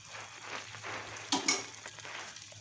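Ground cumin stirred into a pot of beef tongue and spleen, a soft sizzle with scraping spoon strokes and a couple of sharper clinks against the pan.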